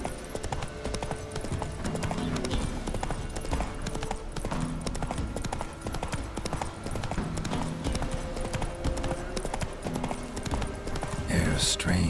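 Horse hooves galloping in The Witcher 3 as a steady, continuous clip-clop rhythm under game music and ambience, close and moderately loud, with a voice talking over it.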